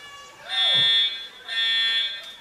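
A smoke alarm shrills in a high school classroom, two loud sustained electronic tones with a brief dip between them, with voices faintly underneath.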